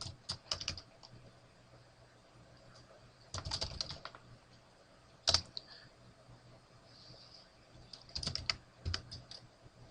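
A computer keyboard is typed on in short, quiet bursts of rapid key clicks separated by pauses, with one sharper tap standing out midway.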